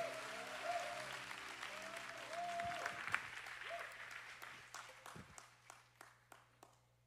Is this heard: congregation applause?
yes